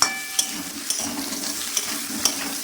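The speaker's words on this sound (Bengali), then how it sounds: "নেড়ে দিলাম" Potatoes and onions frying in a pan are stirred with a utensil, a steady low sizzle broken by several sharp scraping taps against the pan at irregular intervals, close and alone.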